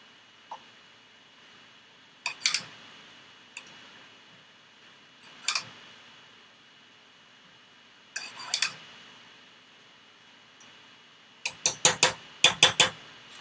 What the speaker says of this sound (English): Stir it a little more.